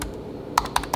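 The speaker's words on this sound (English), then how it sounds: "Now if I hit the enter key" A few presses of a less clicky enter key on a computer keyboard, two or three short, soft taps close by in a quiet room.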